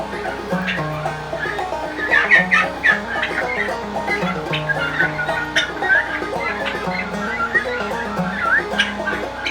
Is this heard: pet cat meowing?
no